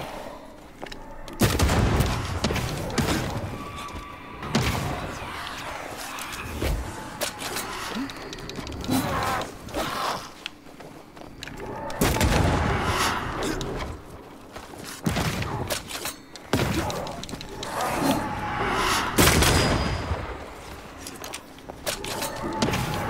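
Gunfire in the game Banishers: Ghosts of New Eden, repeated shots in clustered bursts over busy game effects and music, loud and close.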